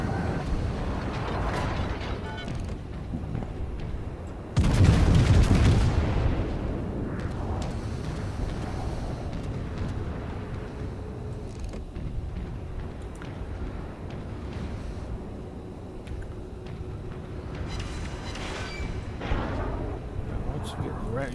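Main guns of the battleship Massachusetts fire in World of Warships during a naval battle: one loud, heavy blast booms near the start, then rumbling battle sounds continue under steady engine noise and scattered game effects.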